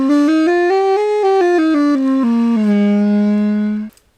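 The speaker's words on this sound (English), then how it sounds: "I call this one an ullophone." A homemade ullophone built from a butchered school recorder, a short piece of PVC pipe and a balloon stretched over the top plays a reedy, buzzy melody of stepped pitches. It ends on a long held low note that cuts off abruptly.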